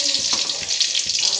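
Bitter gourd slices sizzling in a kadai of hot oil, a steady, close crackling hiss that runs unbroken throughout with a few brief bubbling pops, no voice heard.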